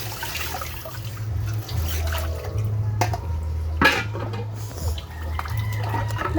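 Water running and splashing in a kitchen sink during house cleaning, a continuous trickling flow with occasional clinks and splashes, a low steady hum underneath.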